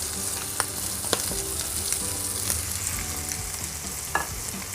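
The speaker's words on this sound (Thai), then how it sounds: "ใส่ตัวกระหล่ำที่เราซอยไปเลยครับ" Sliced cabbage stir-frying in a pan with egg and soy sauce, a loud continuous sizzle punctuated by scraping and tossing clanks of the spatula.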